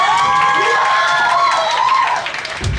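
Audience applause and cheering at a Lions Club charity concert before a band's set: a dense, steady wash of clapping with a few higher shouts on top, fairly loud and dipping briefly near the end.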